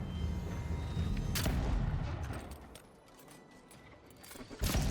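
Gunfire in the video game Avowed, heavy booming shots and crackling bursts filling most of the stretch, with a lull before a final loud blast.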